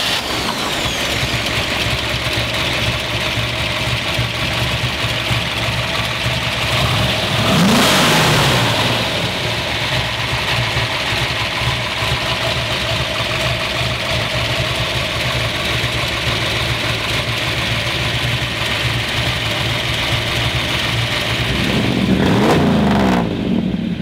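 A 1962 Chevrolet Biscayne with a 409 V8 idles with a deep, steady rumble, nearby and loud, swelling into two distinct revs partway through and again near the end.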